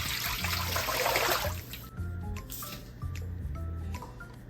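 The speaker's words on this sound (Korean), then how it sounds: "생수를 부어주세요." Bottled water poured over salted young radish in a bowl, a close splashing gush for about a second and a half, followed by softer trickling and small drips.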